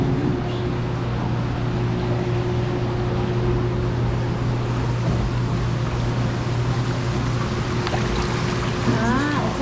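Water pours steadily over a dam display in an aquarium, a constant loud rushing wash with a low hum beneath, and faint background activity near the end.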